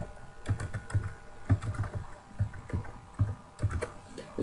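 Someone types on a computer keyboard: a run of quick irregular key clicks in short bursts with brief pauses, close and distinct, with no talking.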